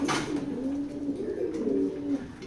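Racing pigeons in a loft, a black racer pair, give a low, steady cooing that rolls on for a couple of seconds, close and fairly clear, with no talk.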